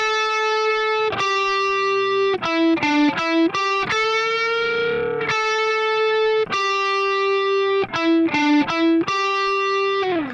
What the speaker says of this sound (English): And that lead part is just this kind of simple single note picking that sounds like this